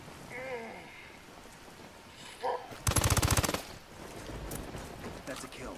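A short, rapid burst of automatic gunfire in the video game Ghost Recon Wildlands, loud and close, amid faint in-game ambience.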